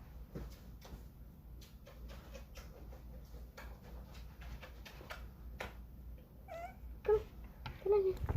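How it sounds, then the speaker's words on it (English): A cat indoors stays mostly quiet amid faint clicks and shuffling, then gives a few short, soft meows near the end. "There's a very good kitty."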